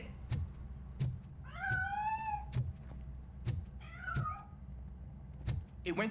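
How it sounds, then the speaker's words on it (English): A cat in RoboCop: Rogue City, hiding inside near a piano, lets out two distinct meows close by, set against repeated dull thumps and low game ambience. "That cat must be hiding inside."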